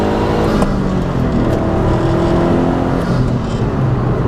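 A 2004 Subaru Impreza WRX STi (GD) with a 6-speed pulls hard in third gear, its engine note loud and close and rising steadily as it accelerates for the full stretch, with no voices.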